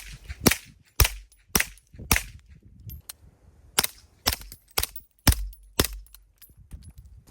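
A suppressed Griffin MK2 AR-9 9mm carbine firing 150 grain Syntac subsonic ammo, about a dozen sharp, close, muffled cracks in an uneven steady rhythm with brief ringing between them.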